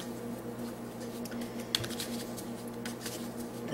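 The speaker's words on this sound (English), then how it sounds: "As these Neapolitan cards always need a very good shuffling." A deck of Neapolitan playing cards is shuffled by hand during a tarot reading, a quiet, continuous papery riffling and patter with small ticks, close by and without talk.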